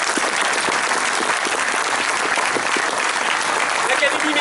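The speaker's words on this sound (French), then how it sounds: "Merci de les applaudir très très fort." A large audience at a medieval festival claps continuously and loudly for the volunteers, a dense, even wall of applause sustained from start to finish.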